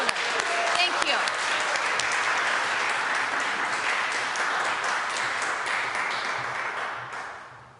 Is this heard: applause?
yes